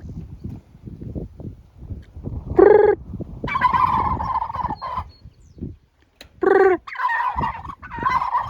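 Farm turkeys gobble in two loud, rattling bursts being put away for the night, with softer clucking between them and faint shuffling and footsteps underneath.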